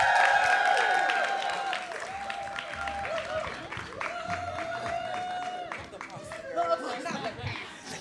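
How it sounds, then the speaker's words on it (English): Audience applause for a guest at a panel event on Black motherhood, clapping running throughout under a busy mix of chatter and overlapping voices, with speech prominent over the crowd. "Please give a round of applause to Nissy Tee."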